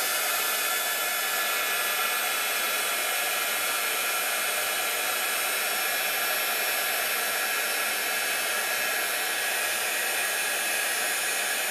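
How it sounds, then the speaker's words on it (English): An emboss heat tool blasting hot air to emboss a snowflake design in a handmade craft project, a loud, steady, close-up whooshing hiss that holds unchanged for the whole stretch with no talking. "we're now going to use the heater, the emboss heat tool thing, to actually emboss it"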